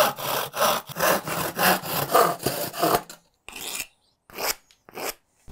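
A hand saw cuts out plywood fins for a homemade bottle rocket. About nine quick, rhythmic back-and-forth strokes rasp close by, then a few slower, separated strokes follow with short silences between them.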